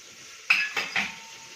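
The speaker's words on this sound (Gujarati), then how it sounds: "ટમેટું ત્યાં અંદર નાખી અને એકદમ સરસ આવી રીતે હલાવી લઈએ." A spoon stirs potatoes, peas, corn, capsicum, carrot and tomato in a cooking pot. Three quick, close scraping strokes with light clinks come before things go quiet.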